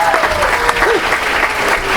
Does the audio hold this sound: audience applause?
yes